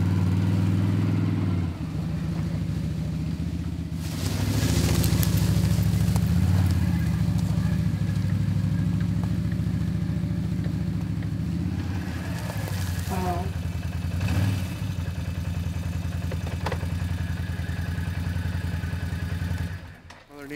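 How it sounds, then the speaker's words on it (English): A quad ATV engine runs steadily as the rider heads into the woods, a continuous close mid-pitched drone with small throttle swells and rumble over rough ground, ending abruptly. "So I'm going to hop on the quad, head out to the woods"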